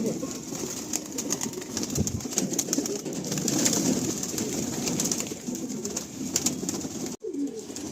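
Andhra pigeons in a loft give repeated low, throaty coos alongside rustling and faint wing movement, moderately close, with a few muffled voices in the background and a brief dropout near the end.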